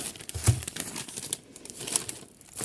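Paper packaging crinkles and tears as a hole is poked through it, with a sharper rip near the start and scattered soft crackles after, close and fairly faint, no voices.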